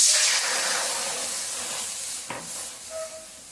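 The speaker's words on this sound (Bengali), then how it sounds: "কড়াইতে দিয়ে দিচ্ছি জল," Water poured into a hot kadai gives a loud, close hiss of steam and sizzle that slowly settles into a quieter simmering fizz, broken by a few small clinks.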